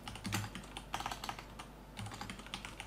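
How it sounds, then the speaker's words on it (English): Rapid, uneven clicking of computer keys typed in short bursts, close and fairly loud, with no voices. "Now I have to start this by typing"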